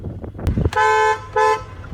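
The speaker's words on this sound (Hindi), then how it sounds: "डुअल टोन हॉर्न है" Two blasts of a 2022 Hyundai Tucson's dual-tone horn, a short one then another, loud and close, with some handling thumps around them.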